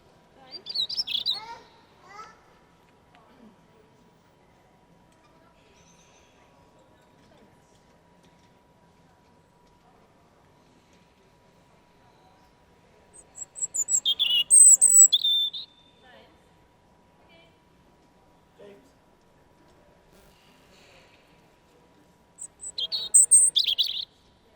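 Small birds, including robins, chirp and tweet inside a huge, warm indoor rainforest greenhouse biodome, in three short bursts of high, bright calls separated by long quiet stretches.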